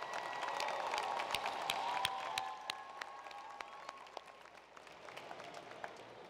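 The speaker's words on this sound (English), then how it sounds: "Please give her a round of applause." A university commencement audience applauds, with dense clapping and some cheering that fades into lighter scattered claps, heard from a distance in a large hall.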